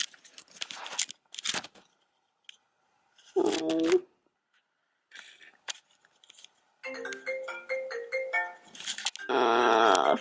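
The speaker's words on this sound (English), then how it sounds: "Phone, you're ruining a cute moment." A phone ringtone plays a short melodic series of tones, followed by a louder burst of noise, in a home setting with brief movement sounds before it.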